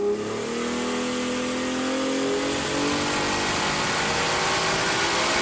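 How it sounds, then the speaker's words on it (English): A Ford Barra engine in a car revs hard and holds a loud, steady, rising drone for several seconds, close up with no talk. "the engine sounds a little more race-like in a way"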